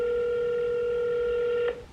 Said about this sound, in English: let's get back into making our phone calls